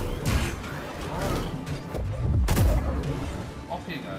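Blaster fire crackles in Star Wars Jedi Survivor combat, a rapid scatter of sharp zaps and bursts with one heavier blast midway, mixed with game noise under a voice.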